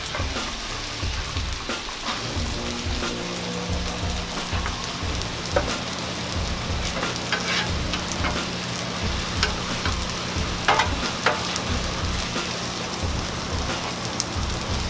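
Shrimp and seafood stir-frying on a Blackstone griddle in an Asian street-food style, a steady dense sizzle with scattered crackles and pops running the whole time, close and fairly loud, with no talking.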